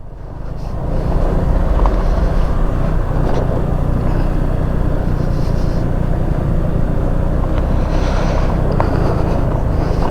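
Motorcycles ride a rough, broken road and a steel bridge, their engines a steady loud rumble mixed with heavy wind buffeting the microphone and occasional rattles and clunks from the bumpy surface.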